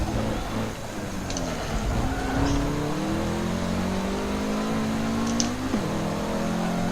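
A Dodge Charger race car accelerates hard on track, its engine note climbing in a sustained, fairly close roar that rises in pitch as it pulls away.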